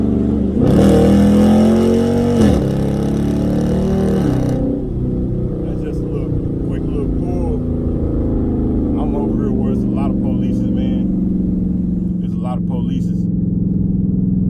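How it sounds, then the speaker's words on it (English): A car engine revs loudly with a deep exhaust roar, surging and falling early, then settling into a steady rumble while someone talks over it. "Let my windows down so y'all hear this exhaust."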